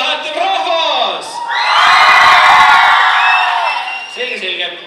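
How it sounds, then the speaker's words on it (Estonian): A live audience at a youth talent show shouts and cheers as loudly as it can in a shouting contest, a sustained roaring crowd swell rising after brief voices and lasting a couple of seconds before fading. "Kõva häält teeb rahvas!"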